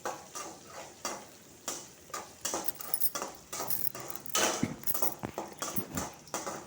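Fenugreek, mustard seeds, cumin, dried red chillies, curry leaves and asafoetida fry in hot oil for gongura tomato pickle, crackling and sizzling with stirring scrapes and irregular pops, close and loud.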